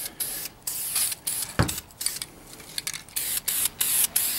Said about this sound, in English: some more light spritzing on here